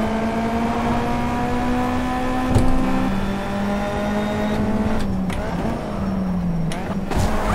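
Racing car engine in the Simraceway racing game, a steady loud drone with shifting pitch as the car revs and changes gear, with brief bumps near the end.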